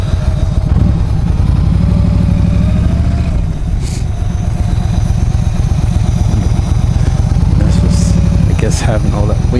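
A motorcycle engine revs and throttles loudly while the rider does donuts, with a rough, steady rumble and brief surges in pitch, close to the microphone.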